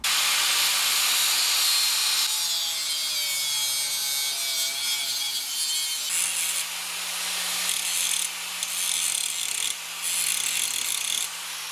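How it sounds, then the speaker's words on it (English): A cutting tool grinds through a metal tab on a Z32 rear brake knuckle during a 240sx brake swap, a steady harsh rasping that shifts pitch partway through and briefly dips a few times, with no voices. "This will slide on, and I'm going to go ahead and cut this tab off."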